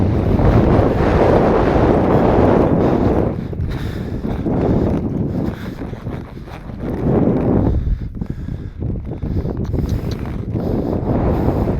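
Heavy wind buffets the microphone in loud, rumbling gusts that ease briefly and then surge back, covering everything else.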